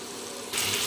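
Spice masala of cumin powder, Kashmiri chilli powder, slit green chillies and turmeric sizzles in oil in a pan for a Bengali pabda fish curry, a steady frying hiss that swells louder halfway through.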